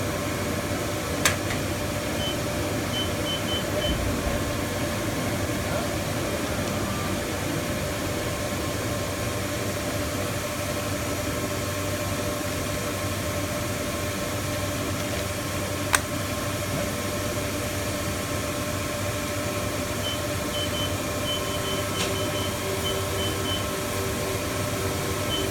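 A Ryobi 924-D offset printing press runs with a steady, dense mechanical hum and whir that holds unchanged throughout, with a couple of faint clicks and no speech.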